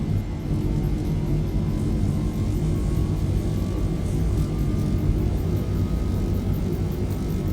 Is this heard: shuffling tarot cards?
no